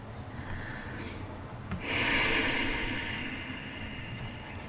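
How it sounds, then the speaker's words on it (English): Slow meditative breathing, a soft airy breath drawn in and let out close to the ear, one long exhalation swelling midway and tapering off, with no talking. "You can start with either the out breath or the in breath"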